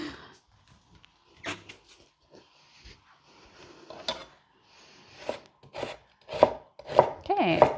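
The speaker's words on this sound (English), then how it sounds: "Okay, just gonna chop up this onion." An onion being chopped with a knife on a board: scattered single knife strikes with pauses, then a quicker run of sharp close chops toward the end, with no talking.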